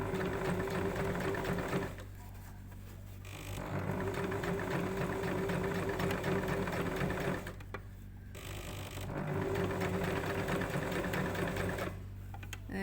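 Domestic sewing machine stitching a corset seam, its motor running in steady bursts with two short pauses, close and fairly loud, ending in a brief reverse stitch.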